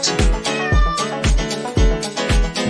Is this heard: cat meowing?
yes